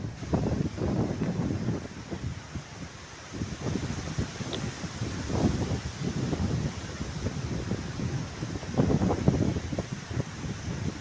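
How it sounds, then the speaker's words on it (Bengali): Wind blowing steadily through a village after rain, a continuous low buffeting roar with gusts swelling and easing, close against the microphone and without voices. "বাতাস বইছে"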